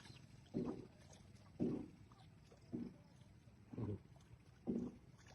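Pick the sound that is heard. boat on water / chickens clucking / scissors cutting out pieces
boat on water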